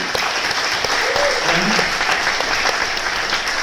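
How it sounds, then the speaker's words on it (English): Keynote audience applauding at a conference in France, a thick continuous burst of clapping from a large crowd, loud and even across the whole span. "You can applaud him"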